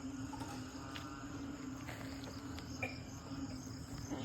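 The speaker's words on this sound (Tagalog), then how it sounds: "Naririnig niyo yan? Puro palaka." Frogs call at night around a dark rural house in Laiya, Batangas, their steady, buzzing chorus of croaks and trills filling the background without pause, with no voices over it.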